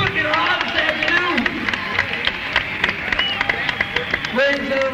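Crowd applause and cheering from the audience at a live 1974 rock concert at the Tulsa State Fairgrounds, a steady dense roar of clapping with a voice heard over it.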